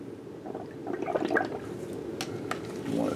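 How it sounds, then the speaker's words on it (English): Bubbles gurgle through a straw blown into liquid, a close, continuous bubbling burble with fluttering watery pops. "So I'm going to go over here and blow some bubbles."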